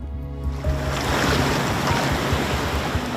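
Ocean surf rolls in at Cable Beach in Broome, a steady broadband wash of waves with wind buffeting the microphone, following a brief bit of music at the start.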